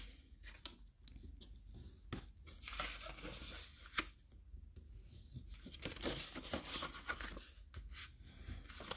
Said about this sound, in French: on va marquer nos plis avec le plioir